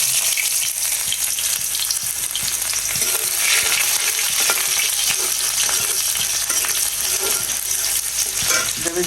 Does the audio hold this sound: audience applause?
no